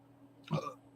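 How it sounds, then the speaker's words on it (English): One short, low burp sounds from close by against a faint hum. "Sorry for that burp."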